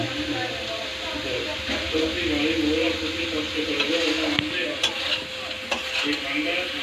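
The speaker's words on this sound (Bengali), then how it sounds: "নাড়া হচ্ছে এবার।" Goat meat stirred in a sizzling pan, with steady frying hiss and scraping of the spoon. Faint voices talk in the background, and a few sharp clicks come near the end.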